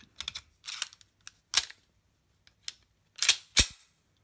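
Dry firing of a Norinco 213 Tokarev pistol loaded with snap caps: a series of sharp metallic clicks and slide snaps, close and crisp, irregularly spaced over a few seconds with quiet gaps between.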